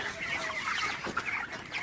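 Broiler chickens in a hot poultry shed cluck and murmur continuously, a dense, close flock chatter with a few sharper calls standing out.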